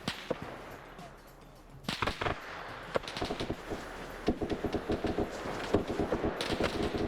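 Gunfire in the video game Arma on the Raate Road mission: after a quiet opening, dense bursts of rapid shots crack out close and loud, with overlapping volleys continuing steadily to the end.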